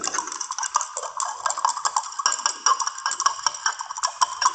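A sand and water mixture stirred in a glass beaker, giving a steady run of light clinks and ticks as the stirrer taps the glass. The sound is close and continuous, with no talking.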